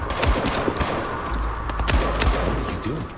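Gunfire in a Vampire: The Masquerade Bloodlines 2 battle, scattered shots and thumps over a busy, continuous layer of game noise, with no one speaking.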